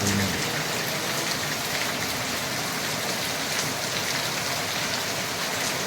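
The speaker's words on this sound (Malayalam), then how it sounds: "മഴ" Steady heavy rain pouring down at a forest homestay in Akamala, Thrissur, a dense unbroken hiss of drops striking surfaces close by, with no voices.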